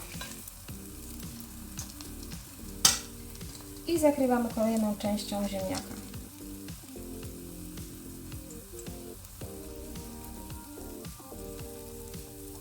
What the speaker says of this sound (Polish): Smażymy na mniejszym ogniu, żeby to się ładnie usmażyło w środku.